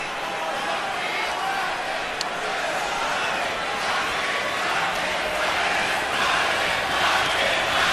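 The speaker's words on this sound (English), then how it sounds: "now they're chanting Marquez, Marquez, Marquez" A boxing arena crowd at Pacquiao vs Marquez 4 chants Marquez's name in a dense, steady roar that fills the whole stretch, loud and continuous with no breaks.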